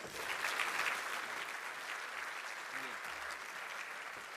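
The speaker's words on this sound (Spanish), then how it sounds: "Un aplauso, por favor." An audience at a conference talk applauds steadily for several seconds, a dense patter of many hands clapping at moderate distance.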